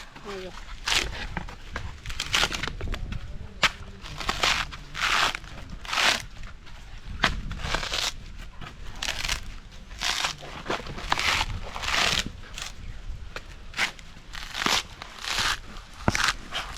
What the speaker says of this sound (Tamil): தேங்காய் உரிச்சு எடுப்போம் வேணா